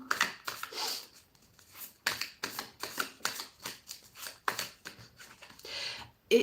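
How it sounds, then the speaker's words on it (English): A deck of cards being shuffled in repeated quick riffling bursts, close and fairly quiet, with short pauses between passes. "So let's shuffle for group 2 now."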